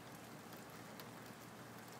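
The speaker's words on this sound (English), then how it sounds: "So you can see it is just pouring." Heavy rain pours down steadily through a stormy evening, a dense, even hiss of drops drumming on surfaces without pause, close and loud with no voices.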